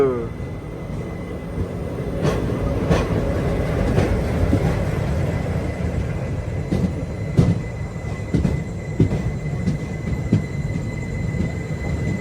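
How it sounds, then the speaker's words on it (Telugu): A diesel locomotive train at Renigunta platform gives a steady rumble with intermittent clanks and a faint high squeal, heard in light rain with voices nearby. "diesel locomotive"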